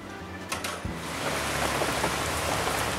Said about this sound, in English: The next day it rained all morning